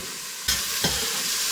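Food for chili con carne frying in a pan, a steady close hiss jumped up by a sudden burst of sizzle, then a second brief flare as something is moved, no talking.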